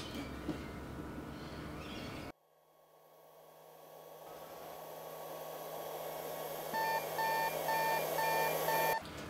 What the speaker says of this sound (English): should the airflow drop below the recommended level, an alarm will sound immediately